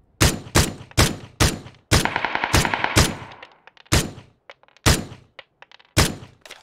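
Gunfire in the video game PUBG on the Erangel map: a rapid burst of sharp, loud shots followed by single spaced reports, close and punchy with short echoing tails, with no talking.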